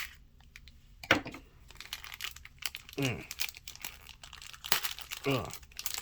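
Strong, almost strap-like packing tape is being torn off the packaging of a NECA toy figure, giving a few sharp ripping bursts between crinkling plastic rustles, close up, with someone talking intermittently.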